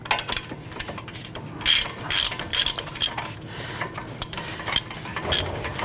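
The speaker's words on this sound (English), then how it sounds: "We'll spin off that upper nut." A ratchet spins off the upper strut nut on a 2009-2015 Honda Pilot, giving rapid close clicking bursts of the pawl with short pauses between strokes, no talking.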